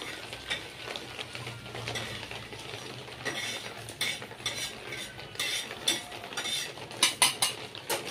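Whole spices dry-roasting in a pan while a spoon or spatula scrapes and clanks against the metal, irregular stirring strokes over a faint sizzle, close by and without talking.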